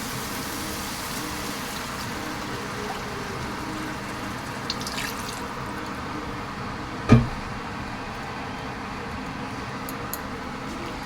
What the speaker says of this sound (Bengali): এই বাটি ধোয়া জলটাও দিয়ে দেবো।